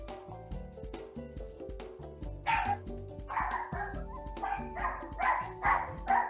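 A household dog barks repeatedly in short yips and whimpers, close and fairly loud over a steady musical background, with no talking.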